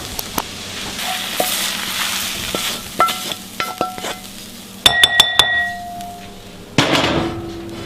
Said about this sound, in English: we're going to get this out and start browning our ground beef